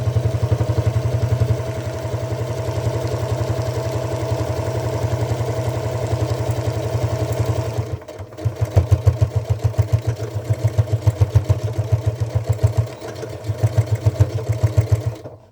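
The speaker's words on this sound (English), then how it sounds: "and we'll sew up to the top." A sewing machine stitches a seam on a one-piece tote bag, running steadily with a fast, even clatter, then pausing briefly and resuming in uneven bursts; close and moderately loud, with no talking.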